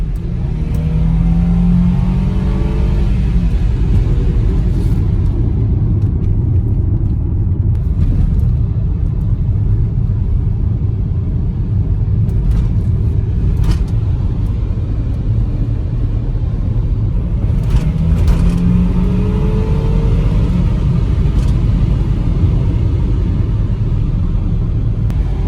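An Audi Allroad 2.7 biturbo accelerates on the road, its engine note climbing steadily in two distinct pulls over a constant low rumble of road and drivetrain noise.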